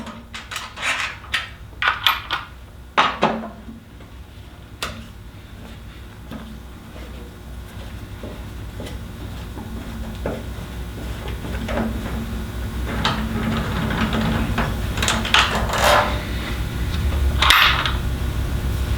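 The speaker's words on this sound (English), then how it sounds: "we use a 10mm wrench to remove these two bolts that are securing the tank to the bike" A 10mm wrench works loose the bolts holding the fuel tank on a KLR650 motorcycle, giving scattered metallic clicks and ratcheting taps, busier at the start and again near the end, over a low steady background hum.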